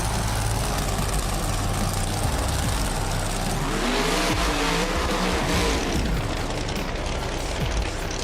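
Monster trucks race in the BeamNG video game, engines roaring and revving continuously with rising and falling pitch sweeps as they accelerate, loud and steady throughout with no talk.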